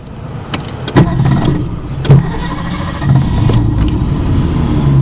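A car named Lorraine cranks and starts up, with a few sharp clicks and thumps over a loud, steady low engine rumble that settles into a continuous idle.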